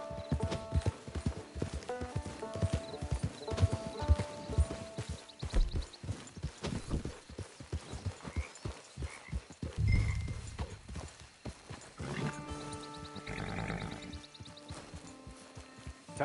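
Horse hooves clip-clop in Red Dead Online, a steady walking rhythm of close, distinct hoof strikes with an occasional whinny, over game music.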